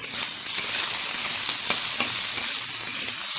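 Raw tomatoes frying in a pan while being stirred for a masoor dal, giving a loud, steady, bright sizzle with faint scraping strokes throughout, no talking.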